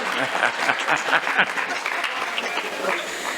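An audience at a Tamil pattimandram debate show claps steadily, a crowded, continuous patter of hands that rises and falls slightly across a few seconds.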